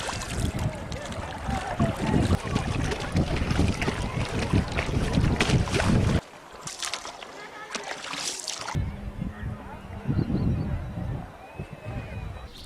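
A small round coracle travels on the Tungabhadra River at Hampi, with steady water wash, splashing and wind buffeting the microphone; the noise drops briefly partway through, then resumes more softly.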